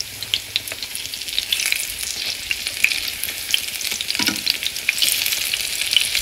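Zucchini slices sizzle steadily in a frying pan, a close, continuous hiss with crackling pops and a few soft clinks of turning throughout, no voices.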